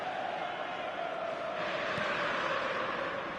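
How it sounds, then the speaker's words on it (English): Football stadium crowd roaring steadily and loudly throughout, a dense sustained wall of voices from a packed stand that swells slightly in the second half. "the crowd level has gone up a notch or 10"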